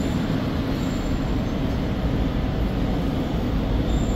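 A Seoul metro subway train runs with a steady, close rumble of wheels on rails and a faint high whine, continuous and even throughout with no talking.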